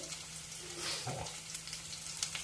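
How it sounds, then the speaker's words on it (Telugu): Crushed garlic cloves sizzle steadily in hot oil for a cucumber dal tempering, a soft, even frying hiss with faint crackles, fairly quiet and close, with no voices. "ఆయిల్ వేడెక్కింది నాలుగు వెల్లుల్లి దెబ్బలు చిత్త కొట్టేసి దీంట్లో వేసుకోవాలి"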